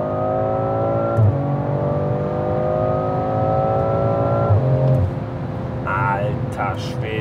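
A BMW Alpina B3 with 462 PS accelerates hard in sport mode, its close, loud engine note climbing steadily through each gear and dropping briefly at the gear changes.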